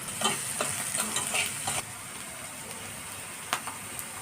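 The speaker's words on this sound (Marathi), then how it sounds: "थोडंसं कांद्यावर मीठ टाकलं म्हणजे कांदा जरा मऊ होतो आणि लवकर शिजतो चांगलं परतून घ्यायचं" Salted onions are sautéed in a pan, a steady bright sizzle with rhythmic stirring scrapes over the first half, then the frying hiss carries on alone with a couple of later stirs.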